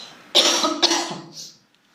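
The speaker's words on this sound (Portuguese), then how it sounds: "Nossa, me deu tosse, eu vou beber mais água." Two harsh, close coughs in quick succession, the second trailing off into a breathy rasp.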